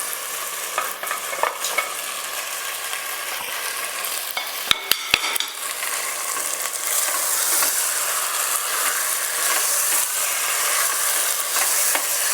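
Fish sizzles in a pan with green capsicum, a steady close crackle, broken by a quick cluster of sharp metallic clinks near the middle and then louder, fuller frying with stirring.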